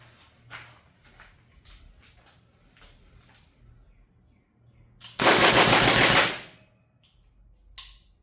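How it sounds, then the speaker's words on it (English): A pistol fires a bill drill of six rapid rounds at 5 yards, a dense loud burst of shots packed into about a second, preceded by quieter handling sounds. "I'm gonna see how fast I can get off 6 rounds at a time and stay on target as quick as I can"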